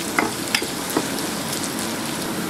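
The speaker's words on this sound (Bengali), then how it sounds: "এই তেলের মধ্যে পেঁয়াজ আর মরিচটাকে জাস্ট একটু ভেজে নিব" Onion and chili fry in oil in a pan with a steady, close hiss of sizzling. A few brief spatula taps and stirring clicks come early on, and no one speaks.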